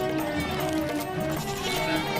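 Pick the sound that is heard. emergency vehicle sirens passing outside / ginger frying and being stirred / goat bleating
goat bleating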